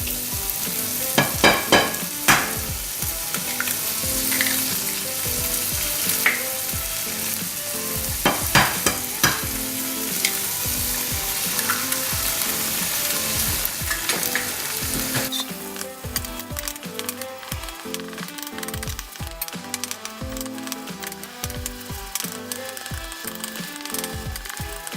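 Eggs fry and sizzle in a pan for low-fat, low-carb fried rice, a loud steady hiss broken by sharp stirring scrapes and clatters of a utensil against the pan, close and without talk.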